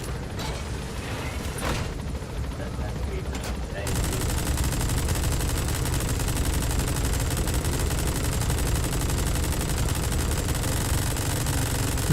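Rapid automatic gunfire in the video game Metal Gear Solid 5, a dense continuous burst that grows louder partway through and keeps going without pause, with faint game sounds before it.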